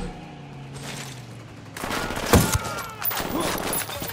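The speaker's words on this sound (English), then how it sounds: "Taking fire from the parking area." Gunfire in the Ghost Recon video game, a dense burst of automatic shots erupting after a quieter stretch with a voice speaking over the fighting.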